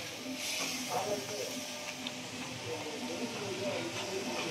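Washed chicken going into a frying pan with coriander powder: a steady, moderate sizzling hiss with faint clatter, heard under a voice talking.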